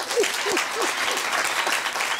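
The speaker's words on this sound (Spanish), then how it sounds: "¿No me van a aplaudir?" Studio audience applauding a magician's card trick on a Spanish-language entertainment show, a steady dense patter of many hands with a few voices calling out faintly underneath.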